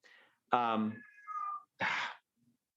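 A house cat gives a drawn-out meow followed by a shorter second call, close and clear, with a person speaking briefly in between.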